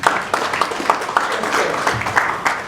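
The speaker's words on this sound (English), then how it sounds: "Let's give them a round of applause." Audience applause at an eGovernment conference, a moderate round of distinct hand claps with uneven, scattered beats continuing throughout, no voices on top.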